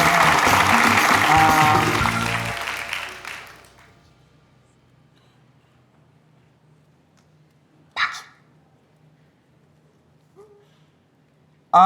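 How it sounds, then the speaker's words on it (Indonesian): Applause for a newly introduced couple at a gathering, a loud burst of clapping that fades out over the first few seconds, then near silence with a few faint scattered sounds. "kita beri dulu tepuk tangan yang meriah untuk pasangan baru ini"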